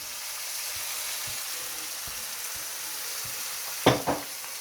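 Tomatoes go into a stew pot of Algerian-style chicken daube and set off a steady, close sizzle and fry hiss, with soft stirring knocks and two sharper clatters near the end.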